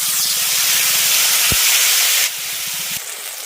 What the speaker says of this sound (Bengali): তেজপাতা আর শুকনো লঙ্কাটা ভাজা হয়ে যাওয়ার পর দিয়ে দিচ্ছি বেটে রাখা মশলা